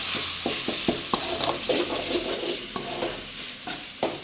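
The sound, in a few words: stirring chilli powder into the gongura mixture in a pan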